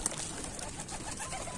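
A pigeon coos briefly and close by as a bird with a newly opened wing is released among other pigeons. Steady background noise runs underneath.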